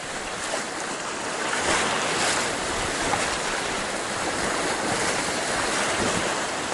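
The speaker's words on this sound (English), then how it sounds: "We're in the rapids." River rapids in Alaska rush loudly around a boat in a dense, steady roar of churning water with gusts of wind buffeting the microphone.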